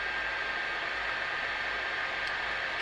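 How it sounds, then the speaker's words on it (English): A Sensica Sensilight Pro handheld light device running after being switched on, giving a steady, even hissing hum that holds without change throughout. "It actually has a very nice humming sound."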